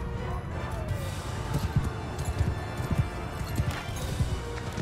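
Horses gallop and whinny in a Mount & Blade II: Bannerlord cavalry charge, rapid hoofbeats thudding steadily throughout with a few neighs on top, loud and close, with a voice talking faintly underneath.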